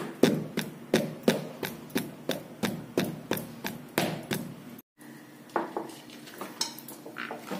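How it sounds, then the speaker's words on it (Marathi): An oiled pestle pounds dal dough in a steady rhythm, about a dozen sharp, close thuds, then a brief pause followed by softer, irregular knocks. "बत्त्याला थोडंसं तेल लावून हे छानसं ठेचून घ्यायचं"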